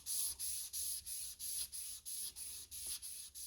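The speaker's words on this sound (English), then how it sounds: "we're gonna get 300 to 400 grit sandpaper, and you wanna sand in an up motion" A BMW S62 VANOS bearing ring being hand-sanded with 300 to 400 grit sandpaper, about ten quiet, even rasping strokes in a regular back-and-forth rhythm, close and isolated.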